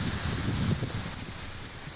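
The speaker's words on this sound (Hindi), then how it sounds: "गिलगित बल्तिस्तान के जिला स्तोर में गुज़श्ता 2 रोज से बारिश का सिलसिला वक्फे वक्फे से जारी है।" Steady rain in Gilgit-Baltistan's Skardu district, a dense, even patter with a low splashing rumble that eases slightly after the first second, and no speech.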